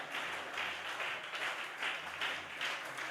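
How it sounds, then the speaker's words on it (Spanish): Applause from a church congregation during a guest pastor's sermon: a steady, fairly faint wash of clapping that swells in rhythmic pulses, with no voices over it. "alabe al Señor fuerte con ese aplauso"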